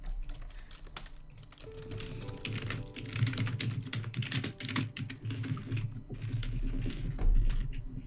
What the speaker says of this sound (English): Sorry about the loud typing.